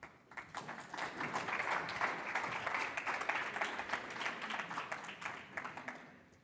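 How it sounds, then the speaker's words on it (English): An audience at a business school conference applauds to welcome a speaker, with a sustained, moderately quiet patter of many hands that swells and then tapers toward the end. "Let's welcome her with a big round of applause."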